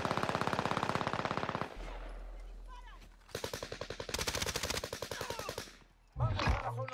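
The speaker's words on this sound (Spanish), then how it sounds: "¿Cómo me están disparando ya?" Rapid machine-gun bursts from a first-person shooter video game, loud and close, firing in several sustained rattling strings separated by brief pauses, with a final short burst near the end.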